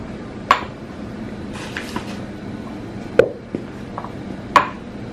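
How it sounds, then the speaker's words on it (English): A spoon stirs calcium chloride into milk in a pot, producing a few distinct metallic clinks against the pot's side, spaced apart over a quiet background with faint soft swishing between them. "And then I'm going to take the spoon and kind of Gently stir it."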